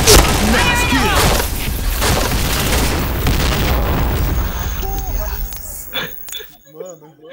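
Grenade blast in the shooter game CrossFire, a loud booming burst at the start that rumbles and fades amid game gunfire and radio-style voice callouts, ending in quieter clicks.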